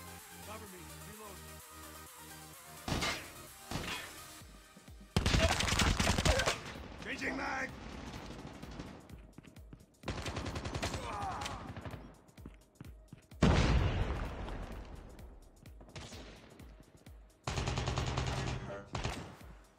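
MSMC submachine gun fire in Call of Duty Mobile ranked play, loud automatic bursts in several separate volleys spread across the stretch, some short and some sustained, amid game noise.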